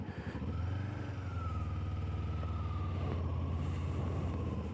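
A 2024 Kawasaki Ninja 7 Hybrid motorcycle pulling away and riding on, with a steady engine drone and a rising whine heard up close from the rider's position. No one talks.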